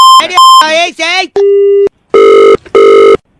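Electronic telephone tones on a radio prank call after the line is cut: a few short beeps, then a steady tone and two long repeated beeps, loud and close, with a voice briefly mixed in near the start.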